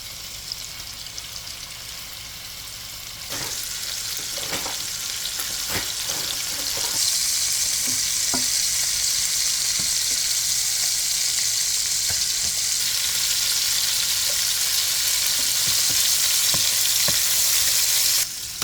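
Shrimp and sausage fry in a hot pan with a dense, steady sizzle that grows louder partway through, broken by occasional clinks and scrapes of stirring.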